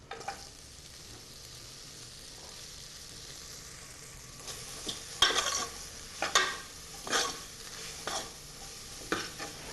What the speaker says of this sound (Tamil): இந்த பொடியாக நறுக்கி வச்சுருக்கிற இந்த பாலக்கை இதோடு சேர்த்துடலாம்.